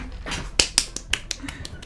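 A few sharp finger snaps, single crisp clicks spaced irregularly over quiet background noise, fairly close and alone without talk.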